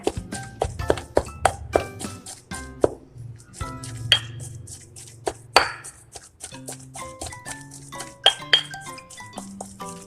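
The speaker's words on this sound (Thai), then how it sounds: "น้ำพริกมะขามเราตำเสร็จแล้วค่ะ" Tamarind chili paste pounded with a pestle in a mortar, a fast run of sharp knocking thuds with some clinks, loud and close, pausing briefly before the irregular beats resume.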